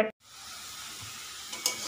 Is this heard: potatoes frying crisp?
yes